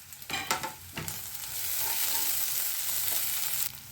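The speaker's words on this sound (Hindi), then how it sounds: "अब हम वो भी प्याज के साथ डालकर 2 मिनट के लिए और फ्राई करेंगे।" Steady, crackling sizzle of onion, garlic and ginger frying in hot oil, with a few stirring scrapes near the start and a continuous hiss that fills the rest.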